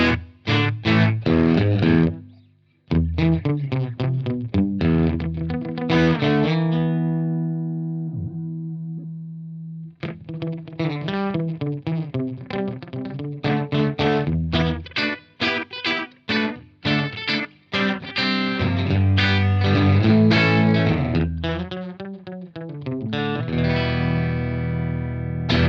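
Electric guitar played through a cheap Cuvave delay pedal set to a long delay time, chords and notes repeating as echoes that trail off, loud and continuous with brief pauses.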